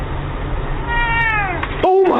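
Kittens meow in a short, rising-and-falling string of close, clear cries, ending in one louder meow over a steady low background hum.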